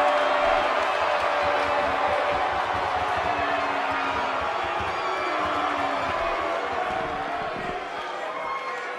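Dense roaring crowd noise fills a wrestling arena during a title match in WWE 2K18, a loud steady wash of cheering and shouting that fades slightly at the end, with commentary voices mixed in.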